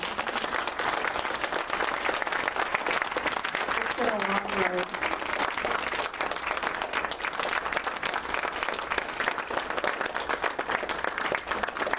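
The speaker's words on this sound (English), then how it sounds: "Yeah, let's just clap for them." An audience claps steadily at a community gathering, a dense, even wash of applause filling the whole stretch while a voice talks briefly over it.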